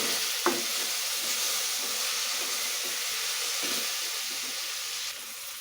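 Chopped tomatoes are stirred into onions frying for a dried fish curry, producing a constant bright sizzle and hiss with a few soft spoon scrapes and one brief knock near the start.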